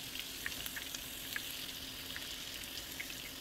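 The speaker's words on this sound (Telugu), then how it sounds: "ఇప్పుడు వచ్చేసి అదే నేను పోపు చేసుకున్న ప్యాన్లో నేను చిప్స్ చేసుకుంటున్నానండి" Sliced potato chips fry in a hot pan in a home kitchen, giving a steady, close sizzle with small crackling pops throughout.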